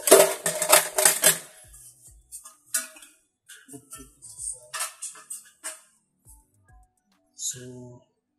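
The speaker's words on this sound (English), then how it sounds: "We'll open the top cover and check what is the issue." The metal top cover of a Sony HTR-IV300 receiver is lifted off with its screws already removed. A dense burst of close metallic rattles and clanks gives way to sparse light taps and clicks.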